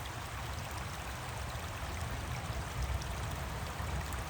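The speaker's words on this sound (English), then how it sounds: "just listen to the running sound of the water" Running water flows in a continuous, even rush and gurgle, steady and moderately close with no voices over it.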